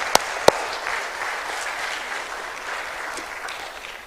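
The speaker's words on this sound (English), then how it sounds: "Let's give a big round of applause to the organizers." A conference audience applauds the organizers, a steady patter of many hands clapping in a hall, opened by two sharp close claps and fading slightly toward the end.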